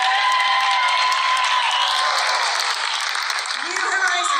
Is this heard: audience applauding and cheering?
yes